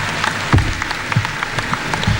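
A crowd applauds at a political address in Kenya, a dense, steady patter of many hands with a few sharper bursts standing out, continuous throughout.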